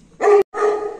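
A Pakistani Bully dog gives two loud, deep barks in quick succession, close by and with nothing else competing.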